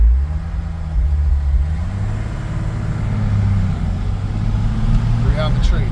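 A 1964 Ford F100 pickup with a three-speed column shift drones loudly while driving, its engine a steady low rumble with a rising tone as it accelerates, close and continuous.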